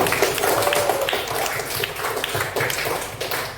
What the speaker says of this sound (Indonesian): Ya, tepuk tangan dulu untuk Wahyuni.